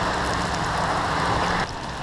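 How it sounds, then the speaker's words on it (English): Hail pelts a trail shelter on a windy, cold day, a dense steady hiss of ice pellets drumming on the roof that stays loud and constant, then eases slightly near the end. "It's hailing."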